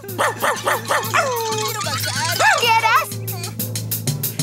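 A dog in a Spanish-dubbed children's TV show gives a rapid run of barks and yips, followed by whimpering, cartoonish whines mixed with excited voices and a steady background hum.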